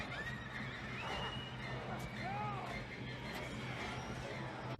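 Horses whinny and neigh in the film Bram Stoker's Dracula, several rising and falling cries mixed into a dense, fairly quiet soundtrack with crashing impacts and voices.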